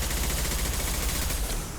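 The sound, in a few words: gunfire in video game Mass Effect 2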